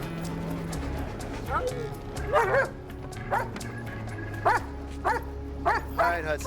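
A dog barks repeatedly amid a tense police arrest scene, the sharp barks rising above steady background noise and low hum, with people talking around them.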